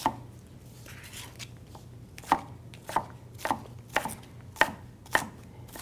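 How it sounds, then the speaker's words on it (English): A knife chops yellow ingredients on a cutting board for guacamole. The sharp, close cuts come in an uneven rhythm and speed up toward the end, over a quiet background with no talk. "You want to chop it up roughly 1/8 of an inch."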